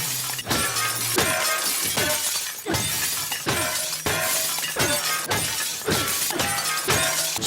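Glass shatters over and over in a video game, a rapid series of loud, bright crashes about every half second, each with a tinkling tail of falling shards, with no talking.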